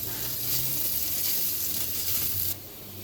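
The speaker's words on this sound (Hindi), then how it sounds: "उसमें हम डालेंगे अपना गार्लिक और इसको करेंगे फ्राई" Garlic frying in a tablespoon of oil in a pan, a steady close sizzle and hiss that runs continuously, then drops slightly in level near the end with no voices.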